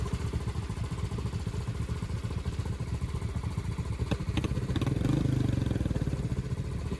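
A motorcycle rides along during an informal drag race among a Yamaha R15M, Pulsar NS160, BMW 310RR, Dominar 250 and Royal Enfield Meteor 350, engine chugging in a steady rhythm, then rising briefly as it revs harder near the end.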